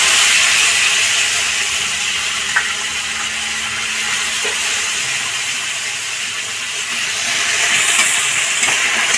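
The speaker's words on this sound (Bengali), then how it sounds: "এবার জিরে আদা বাটাটা দিয়ে দিচ্ছি।" Cumin and ginger paste sizzles steadily in hot oil while cooking a soybean rezala, a continuous loud hiss with a few faint pops and no talking.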